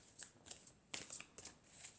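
Tarot cards riffle and slide in a run of crisp, close shuffling bursts with short pauses between them, cards snapping and brushing against each other in a quiet room.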